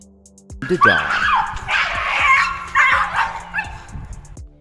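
A dog confronting a cat gives a loud close yelp, then a run of sharp barks and whimpering yips, insistent and agitated, with no talking.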